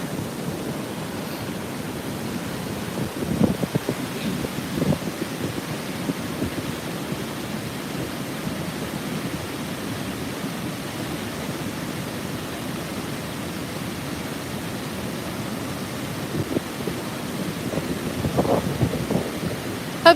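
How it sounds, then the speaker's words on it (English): The Great Falls waterfall in Maryland gives a steady, broad rushing roar heard from a distance on New Year's Day, with gusts of wind buffeting the microphone now and then and no talk. "Hopefully you can hear the falls and not just wind."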